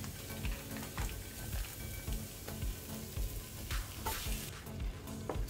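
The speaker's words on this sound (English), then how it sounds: "I'm just waiting for the butter to dissolve, okay? And we just want to fry this for about 2 minutes." Butter melting with a teaspoon of sugar in a pan for a seafood boil sauce, giving a soft, continuous low sizzle with light intermittent stirring taps throughout.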